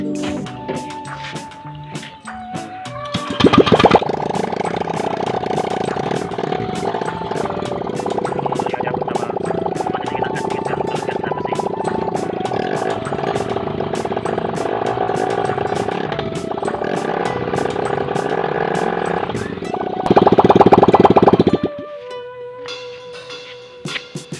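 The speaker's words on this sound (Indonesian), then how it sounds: "sambil dinyalain mesinnya" A motorcycle engine runs steadily and fairly loud throughout a rear brake check after new brake pads were fitted, with a brief louder mechanical burst near the end and no talk.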